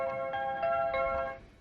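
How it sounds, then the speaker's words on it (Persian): A telephone ringtone plays while a call is placed to someone at a house: a steady electronic ring with bright, sustained tones pulsing in short repeats, clear and close, with no talking over it. "یه زنگ به این زهیری بزن ببینم چه کارشون داری"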